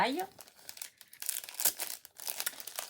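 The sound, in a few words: paper being crumpled and handled while crafting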